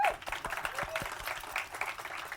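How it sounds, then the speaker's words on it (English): Audience clapping over a couple of seconds, a scattered burst of applause with some voices mixed in. "Everybody clap."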